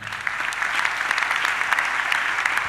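A church congregation applauds together in a large worship hall, a dense and sustained clapping that stays loud and even from start to finish.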